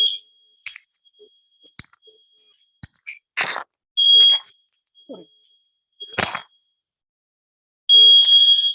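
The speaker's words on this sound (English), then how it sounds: "there was alarm." An electronic alarm sounds in short, piercing beeps during an online workshop session, with a few long gaps between them and scattered clicks and knocks in between, and no talking.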